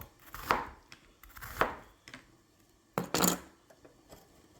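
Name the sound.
knife chopping an onion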